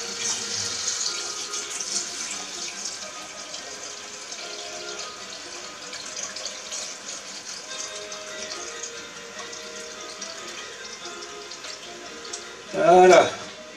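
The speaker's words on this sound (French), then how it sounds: "je mets mes châtaignes eau froide" Cold water runs steadily from a kitchen tap onto chestnuts being prepared for marrons glacés, a continuous hiss and splash lasting most of the clip, ending in a brief louder clatter near the end.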